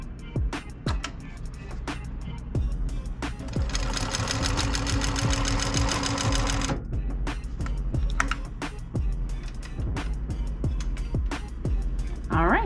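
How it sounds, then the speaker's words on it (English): A TECHSEW sewing machine stitches a light yellow fabric piece in a wig-making workspace. It runs in short bursts, then hums in one steady run of about three seconds before stopping and starting again, loud and close. "So the machine is working properly."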